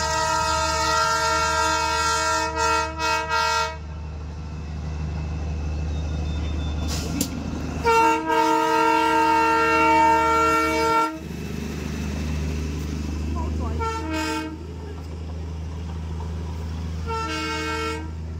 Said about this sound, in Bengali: দেখুন টয় ট্রেন।